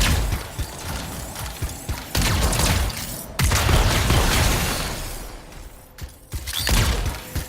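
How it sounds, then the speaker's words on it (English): A contained explosion in a video game sets off a series of loud booms and crackling bursts. The blasts come in separate surges over several seconds, with rattling mechanical clanks between them. "It'll be a contained explosion."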